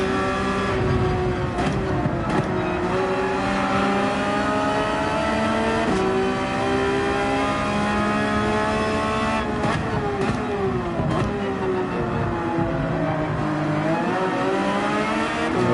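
A Ford Expedition's 3.5 liter V6 EcoBoost engine revs hard in Gran Turismo 7 at the Red Bull Ring, a steady loud drone rising and falling through shifts, with other racing engines layered around it.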